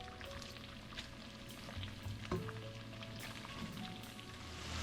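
Bacon and garlic frying in a pot for seafood chowder, giving a steady, quiet, even sizzle with faint crackles and a couple of light utensil taps, no voices.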